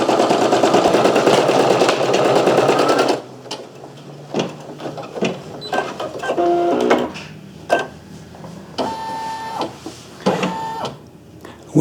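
A Brother SE1900 embroidery machine stitches with a dense, steady mechanical whir for about three seconds, then falls into intermittent clicks, taps and short motor bursts.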